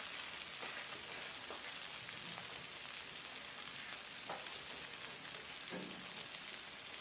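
A Northern Thai dish of pounded beans with pea eggplant, kaffir lime leaves, coriander and spring onion is stir-fried in a pan, giving a soft, steady sizzle with occasional light scraping from stirring.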